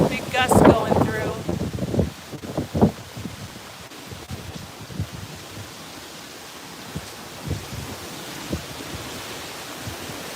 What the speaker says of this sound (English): Ooh, here we go, another big gust going through.